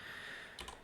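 A couple of quick keystrokes on a computer keyboard while writing C code, brief and fairly faint over a steady background hiss.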